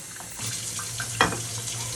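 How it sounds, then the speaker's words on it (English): A tap runs hot water into a container as a steady close hiss and splash, with one brief louder splash partway through. "Fill up with hot water pretty much to the top."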